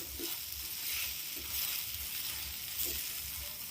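Sugar stirred in a pan over low to medium heat while making apple chutney, a soft steady sizzle with a few faint spoon scrapes recurring about once a second.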